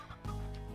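A short fowl cluck from a chicken in the Slime Rancher video game, one quick close call over a steady hum.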